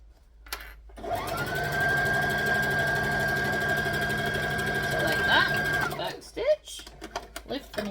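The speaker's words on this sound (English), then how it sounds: "Stitch, lift the needle up, pull it out." Sewing machine stitching fabric for a library bag, running steadily for about five seconds with a high whine and rapid needle clatter, then stopping, followed by small handling clicks.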